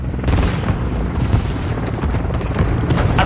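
Mortar strike explosions in Call of Duty Modern Warfare 2 rumble as a continuous barrage of heavy, booming blasts, loud and close, overlapping one another with deep low-end thuds throughout.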